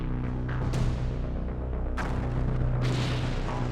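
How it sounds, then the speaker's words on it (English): A series of powerful explosions blows the stricken ship Napoli in half: three sharp, deep booms over a continuous low rumble, each blast trailing off before the next. "blow it in half with a series of powerful explosions"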